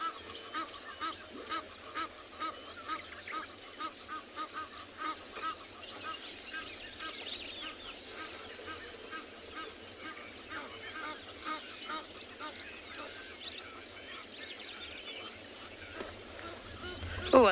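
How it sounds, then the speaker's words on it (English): White-faced whistling ducks calling at a sunrise safari waterhole among other birdlife, repeated honking and whistling calls at moderate distance over a quiet morning background. "We've got white-faced whistling ducks at the back next to a yellow-billed stork."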